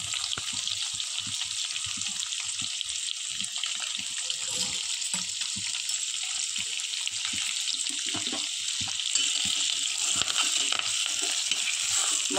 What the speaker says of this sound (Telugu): మరుగుతుంది, కాగుతుంది నూనె.